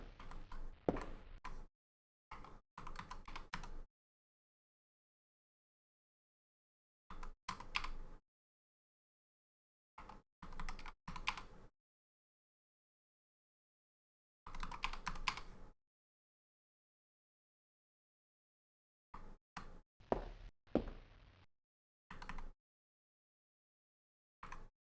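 Computer keyboard arrow keys tapped in short clustered bursts, several quick clicks at a time separated by long silences, close and fairly quiet.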